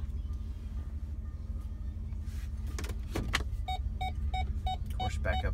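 The power sunroof on a 2013 Ford Raptor slides open inside the cab, with a steady electric motor whir under the idling engine and a few short clicks and rattles.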